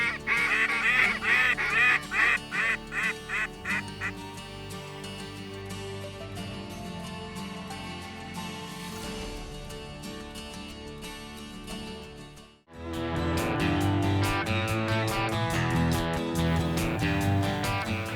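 Speckled-belly geese call during a waterfowl hunt with a run of rhythmic honks and yelps, followed by a steadier blend of calls and then a louder burst of honking, all fairly close.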